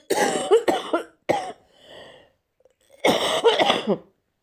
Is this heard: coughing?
yes